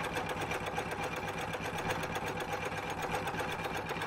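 A lathe machines a sector arm part for a Gingery dividing head, giving a steady rapid mechanical chatter and whir, close and continuous, with no voices.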